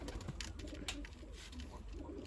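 Soft pigeon coos repeat in short low bursts, fairly faint, with light background noise and no talking.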